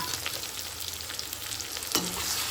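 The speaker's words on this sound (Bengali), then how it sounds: "এবার এর মধ্যে বাকি কাজু আর কিশমিশ দিয়ে দিলাম" Cashews and raisins fry in oil with ginger and garlic, making a soft, steady sizzle close by with light stirring scrapes and a single brief clink.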